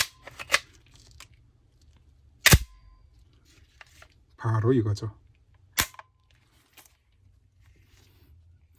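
An HK MP5 submachine gun is cocked, sharp metallic clacks of its charging handle snapping near and loud amid quieter handling clicks, with a brief spoken phrase in between.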